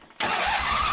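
Racing lawn mower engine catching and roaring to life abruptly after a brief quiet moment, then running at a loud steady high idle.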